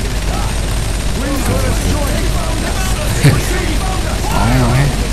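A newly acquired gun fires rapid, continuous bursts in the video game Earth Defense Force 4.1, a steady rattle of shots beneath a player talking.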